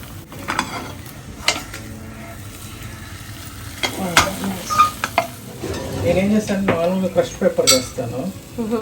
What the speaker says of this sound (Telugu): ఇక్కడ కూడా బ్రౌన్ అవ్వకుండా చక్కగా ఫ్రై చేశారు